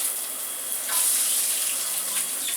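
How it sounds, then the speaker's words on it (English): Water running from a tap while mixing a hair gel at a sink, a steady close hiss of flowing water that swells slightly partway and continues without talk. "We're going to add a little bit more water."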